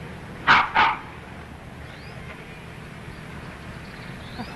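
A puppy named Skippy gives two quick, sharp barks close by, then stays quiet against a faint background hiss.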